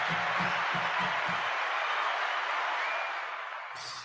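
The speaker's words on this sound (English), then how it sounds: "Let's give everybody a round of applause" Sustained audience applause, a steady wash of many hands clapping with a few low thumps early on, continuing evenly before thinning and cutting off near the end.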